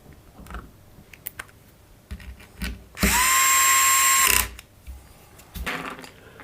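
A power screwdriver drives screws into an amplifier board and enclosure: one loud, close whirring burst with rising pitch lasting over a second, framed by quieter clicks and handling knocks.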